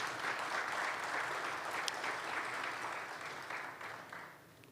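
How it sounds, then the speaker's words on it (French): An audience applauds participants at a closing ceremony for a journalists' economics training, a dense sustained clapping from many hands that holds steady, then gradually thins and fades toward the end. "Un applaudissement pour nos participants."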